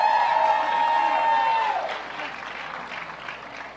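A crowd at a reproductive freedom rally for Vice President Kamala Harris cheers and applauds, a loud sustained roar with a high whistle at first, then fading to softer clapping.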